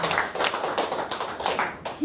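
An audience claps in short uneven bursts during a health-product lecture, several distinct smacks spaced over about two seconds, fairly close and moderate in level.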